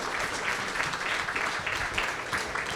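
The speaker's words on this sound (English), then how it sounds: "Can we give them a big round of applause?" An audience at a tech demo event applauds steadily, a dense, even clapping that fills the whole stretch at close range without pause.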